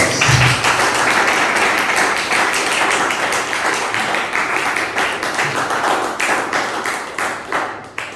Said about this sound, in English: If there is a way that applause can be turned on.